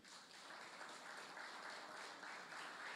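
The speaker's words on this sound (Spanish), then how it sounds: "Denle un aplauso al Señor" Faint, far-off applause from a church congregation during a Sunday service, a soft, continuous patter of many hands with no talking over it.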